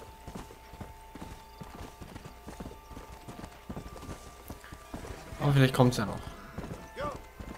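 Horse hooves clip-clop steadily at a trot in the Red Dead Redemption game, a continuous rhythmic beat under someone speaking briefly partway through.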